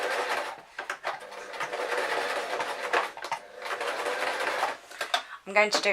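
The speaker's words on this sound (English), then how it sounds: "we're now going to sew on the top band" A domestic sewing machine stitches a top band onto elastic for a beach cover-up jumpsuit, running in bursts of fast, even stitching with a brief pause before a final quick run, loud and close.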